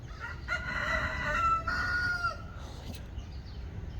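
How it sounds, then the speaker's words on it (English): A rooster crows a long, drawn-out call in two rising and falling phrases from some distance away, beside the Ice Age Trail at Lapham Peak, Wisconsin, amid quiet outdoor ambience. "I hear the rooster."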